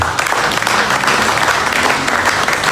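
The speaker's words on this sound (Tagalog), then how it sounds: "palakpakan natin ang Diyos." A church congregation at a Sunday service claps together, a dense, steady burst of loud applause with no talking over it.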